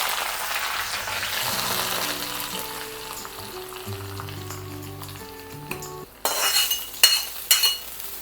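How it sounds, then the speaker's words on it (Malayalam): Sambar simmering in a pot on a gas stove, a soft bubbling bed overlaid by a few metallic ladle clinks and scrapes against the pot near the end, close and moderately loud, with no voices. "നമുക്കൊന്ന് ഇളക്കി കൊടുക്കാം."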